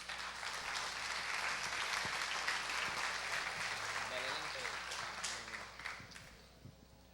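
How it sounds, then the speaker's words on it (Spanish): Audience applause at a conference welcoming a speaker: a quiet, steady wash of clapping that fades toward the end, with faint speech underneath. "Un aplauso, por favor."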